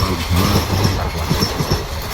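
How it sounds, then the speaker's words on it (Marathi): Loud, rough rumble of a train rolling past close by, with rhythmic clattering of wheels over the rails. "कर्कश आवाजात रेल्वे गाडीने"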